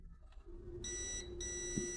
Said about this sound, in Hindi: अब मैंने बीप पे रखा इसे